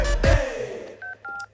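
An old telephone in a movie scene, with a loud thud followed by a few short, clear electronic dial-tone beeps close up, with no talking.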